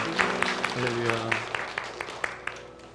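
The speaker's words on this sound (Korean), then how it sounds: "이곳에 불러주신 하나님께 영광의 박수 올려드리겠습니다." A church congregation claps together in steady, fairly loud applause that slowly fades, with a voice speaking over the clapping.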